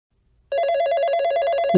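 After a half-second hush, a telephone starts ringing for an incoming call, a continuous trilling bell tone that is near and clear and sounds alone.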